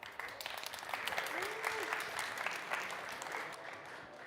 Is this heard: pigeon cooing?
no